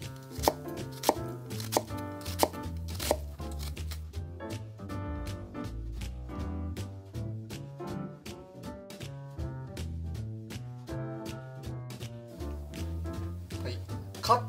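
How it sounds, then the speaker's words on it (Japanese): A knife finely minces half an onion on a board, with quick, regular chopping taps repeating throughout over background music. "こちらもみじん切りにしていきます"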